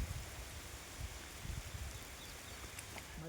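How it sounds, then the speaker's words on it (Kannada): Light rain falls outdoors near trees as a faint, steady hiss with soft scattered drops. It stays quiet and even throughout, with no voices. "ಸ್ವಲ್ಪ ಕಮ್ಮಿ ಆಯಿತು ಮಳೆ, ಚೂರು ಅಷ್ಟೇ ನೋಡಿ"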